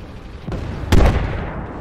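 A single heavy cannon blast from a tank in a military simulation game, a sharp loud boom at about one second with a short rumbling tail, preceded by a softer thud.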